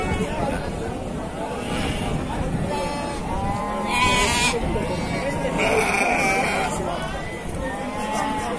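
Sheep, including pregnant ewes and ewes with lambs, bleat repeatedly at the Pasar Wage livestock market in Bumiayu. The bleats rise over a steady crowd hubbub, with people talking nearby.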